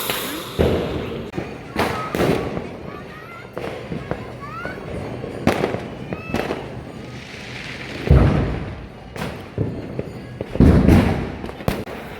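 Diwali fireworks and sparklers pop and crackle in sharp bursts, some with deeper thumps, scattered irregularly, with voices chattering faintly in between.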